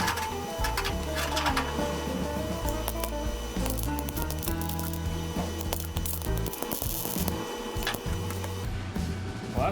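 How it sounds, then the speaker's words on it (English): Left-handed welding on rusty, crusty sheet metal of a Volksrod Baja project, with a copper spoon held behind the hole as backing; a steady, dense crackling buzz runs the whole time, close and fairly loud, with no talking. "See if I can weld left-handed"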